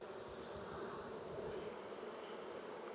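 Honey bees swarm around beehives in a steady, dense buzz that holds even from start to finish, with no voices over the drone.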